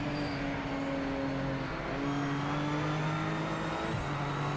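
BMW race car engine in a sim racing video game, a steady high-revving drone with sustained harmonic tones held at near-constant pitch, then a brief shift in revs near the end, loud and unbroken.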